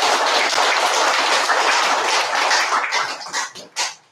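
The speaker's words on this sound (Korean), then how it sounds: "박수 한번 부탁드립니다" A church congregation bursts into dense, sustained applause that fills the room, then thins into a few scattered final claps.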